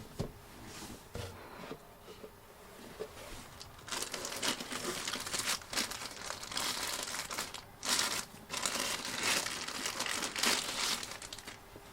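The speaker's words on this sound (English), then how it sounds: "Let me unbox this." Packaging for a VIOFO A229 dashcam being unboxed, with close crinkling and rustling of plastic and cardboard, quiet at first and then busier with sharp crackles, and no talk.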